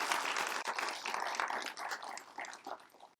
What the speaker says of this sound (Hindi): कवि रमेश जी, उनका भी हम तालियों से स्वागत करते हैं।